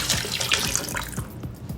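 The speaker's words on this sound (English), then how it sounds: "You can't have stew without a little bit of water and chicken stock." Water pours steadily into a stew pot of chicken stock for seasoned stew, a continuous close splashing stream with no talk over it.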